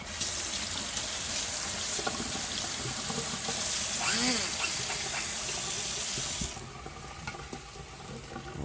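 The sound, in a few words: rinsing something under running tap water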